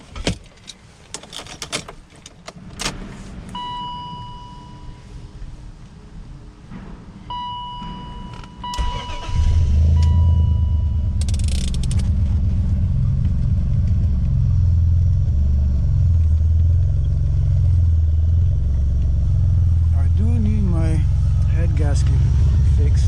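A Honda S2000 engine, just repaired after a gasket fix, starts and settles into a loud, deep, steady rumbling idle close by, after several clicks and thuds, with someone talking early on.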